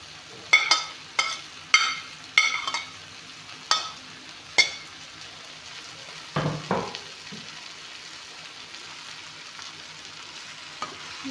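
Pumpkin pieces fry in a pan with local chicken, giving a steady close sizzle broken by a run of sharp spatula clinks and scrapes early on, then calmer frying with occasional taps.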